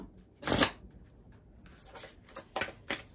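Oracle cards are shuffled by hand before drawing a single card, giving a few short papery swishes and taps, one louder burst followed by softer irregular ones, close and quiet without speech.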